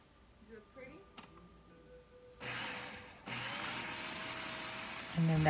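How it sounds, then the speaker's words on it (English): Two peeled garlic cloves are chopped in a food processor. After some quiet handling noises, the motor kicks in with a steady whir that continues to the end and grows louder in the final moments. "I'm going to put them in the food processor and whiz it around."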